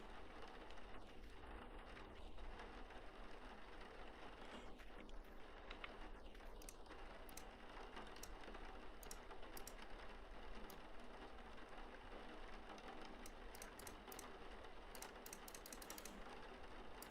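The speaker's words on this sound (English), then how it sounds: "I love the sound of the rain." Rain falls steadily in the video game Vintage Story, making a constant even patter with faint clicks and ticks scattered throughout.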